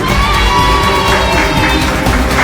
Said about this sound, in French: Merci d'applaudir Maëlys